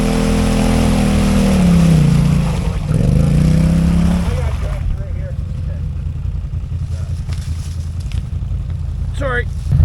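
Can-Am Outlander 1000 XMR ATV stuck in mud, its engine revving hard in a loud rising whine that dips and then drops away, followed by a lower rumble with voices talking over it.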